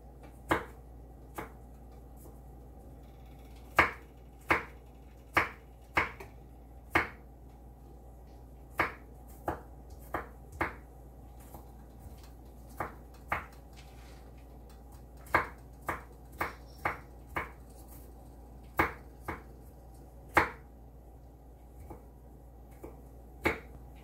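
Knife chopping food on a cutting board while cooking a seafood butter sauce: a series of sharp, irregularly spaced close chops with quiet gaps between them, no talking.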